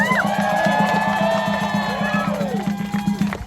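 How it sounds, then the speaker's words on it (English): An audience at a Renaissance faire stunt show cheers and shouts loudly, with whoops and excited children's voices rising over a continuous crowd roar that fades slightly toward the end. "like to thank you guys for cheering for the village idiot"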